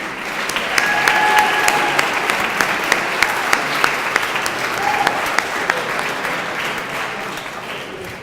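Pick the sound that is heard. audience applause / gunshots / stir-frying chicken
audience applause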